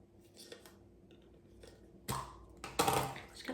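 Scissors snipping during a DIY faux terracotta pumpkin craft, heard as soft isolated clicks early on, then two louder, crisper cutting bursts toward the end in a quiet room.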